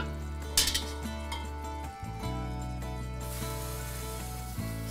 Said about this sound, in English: And we continue stirring.